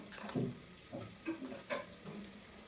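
Mustard seeds and cumin hitting hot oil while making palak pulao, with soft crackling pops and stirring scrapes, a few spaced sizzling bursts at low volume with no talking.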